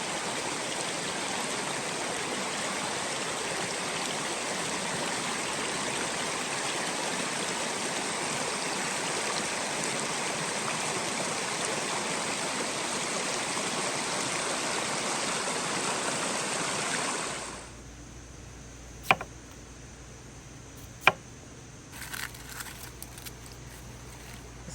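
A river rushes steadily past a campsite in wooded mountains, a loud, continuous broadband flow that drops away sharply near the end, leaving quieter ambience broken by a few sharp clicks and knocks.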